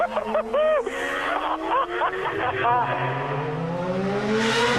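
Formula 1 cars in the pit lane at the 2010 Brazilian Grand Prix, engines revving and rising in pitch in the background under a commentator's voice.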